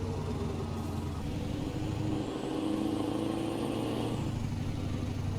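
Steady truck engine in Euro Truck Simulator 2 held at high revs, droning loudly throughout, with a faint light sewing-machine-like ticking rhythm riding under the engine note.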